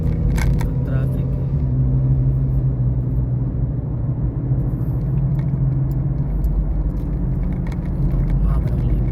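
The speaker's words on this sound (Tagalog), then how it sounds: "Traffic." Road traffic rumbles steadily from inside a moving car, a constant low engine and road drone with occasional clicks, while people talk.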